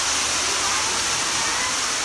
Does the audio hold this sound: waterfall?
yes